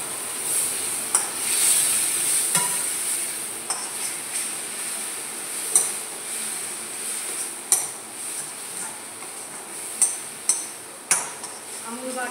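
Amul butter sizzles softly in a pan of creamy prawn curry with onion and garlic, with a quiet steady hiss broken by several sharp clinks and scrapes of a utensil against the pan while stirring.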